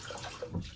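A sponge is wetted under running water from a tap, a short, soft, steady splash and trickle heard up close with no voices.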